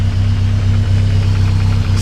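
A 1984 Toyota 4Runner engine idles steadily and close by, with an even low rumble and a faint regular tick, with no voices over it.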